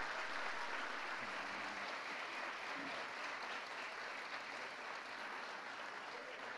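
Steady applause from an audience at a school graduation ceremony for eighth-grade students, a dense, even clapping that holds at moderate volume throughout without pause.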